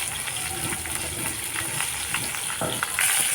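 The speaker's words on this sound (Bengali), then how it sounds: "মাছগুলো ভালো ভাজা হয়ে গেছে এবার আমি উঠিয়ে নেব" Rohu fish pieces fry in hot oil in a home kitchen, giving a steady close sizzle with scattered crackles and pops throughout and no voices.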